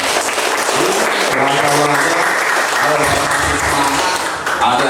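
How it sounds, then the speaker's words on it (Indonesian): An audience at an anti-drug awareness session for young people bursts into loud, sustained applause, many hands clapping densely throughout with a brief dip near the end. "itu tepuk tangan semua ya."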